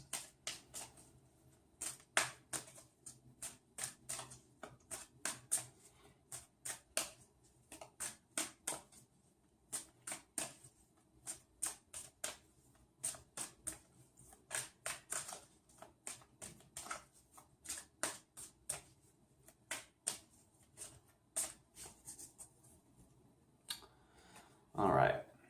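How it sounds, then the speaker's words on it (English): Soft, rapid riffling and tapping of tarot cards repeats in quick bursts, faint and close, with brief pauses between shuffles. "I'm going to go ahead and shuffle the cards."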